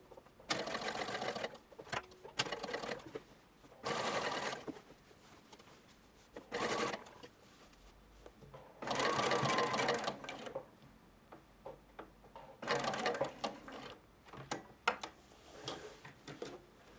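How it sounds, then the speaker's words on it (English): A home sewing machine runs long basting stitches to hold the skirt pleats of a shirtwaister dress in place. It makes close, brisk mechanical whirring bursts in several short runs, with quiet pauses between them. "So here I am securing those pleats in position. If you haven't got a basting stitch on your machine, just set it to the longest stitch."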